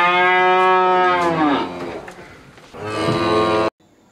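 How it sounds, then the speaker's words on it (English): A cow gives two long, loud moos, one after the other, up close. "What sound does a cow make? Moo."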